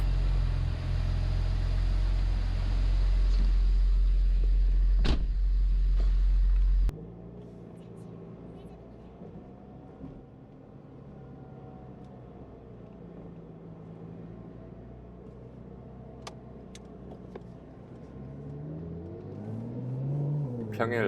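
A Porsche convertible drives along an open road, its engine a steady low rumble with road and wind noise; a louder idling stretch cuts abruptly into quieter cruising, with a brief revving rise near the end.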